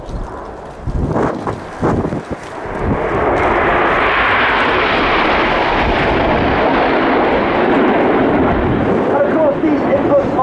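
Red Arrows display jets fly in formation at the Royal International Air Tattoo airshow, their engines rising from scattered bursts into a loud, sustained roar that fills the clip as the formation passes close overhead.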